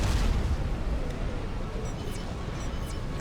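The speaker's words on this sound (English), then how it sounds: "that's T3 artillery" T3 artillery firing in the real-time strategy game Supreme Commander: Forged Alliance, with deep rumbling booms strongest at the start that fade into a low roar and a few faint high whistles.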